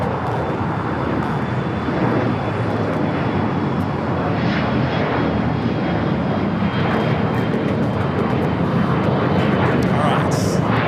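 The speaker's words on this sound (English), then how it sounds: "Air France, flight 22 coming in from Paris on the 777-300ER." Jet roar from an Air France Boeing 777-300ER arriving at LAX from Paris, a dense steady rumble at moderate distance that builds slightly toward the end.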